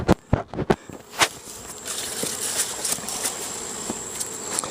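Honey bees buzz around an open beehive during late-summer hive work, a faint continuous drone behind a few sharp knocks and taps at the start.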